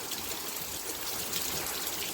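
Heavy rain from Hurricane Sally pours steadily onto a truck in Alabama, a dense, loud, unbroken hiss with no voices.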